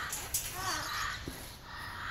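Cockatoos at a parrot sanctuary give harsh, raspy screeching calls over steady background noise, with a person talking nearby.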